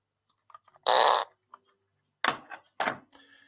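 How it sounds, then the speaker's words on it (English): Several farts in a row: a loud, buzzy burst, then scattered small ticks and two more rough blasts close together near the end, with no talking. "Farting is funny."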